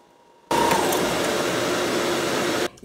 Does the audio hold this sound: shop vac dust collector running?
yes